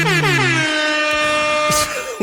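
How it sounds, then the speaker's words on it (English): A loud, sustained air horn blast with a bright, brassy tone, ending with a short burst of noise. "Ooh, your own air horn."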